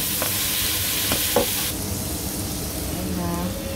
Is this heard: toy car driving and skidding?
no